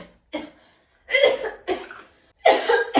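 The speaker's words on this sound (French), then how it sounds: "Moi, je peux pas respirer des trucs comme ça parce que ça me fait tousser." A woman coughs in several sharp, close bursts, irritated by dry shampoo spray during a makeup routine, with short silences between coughs.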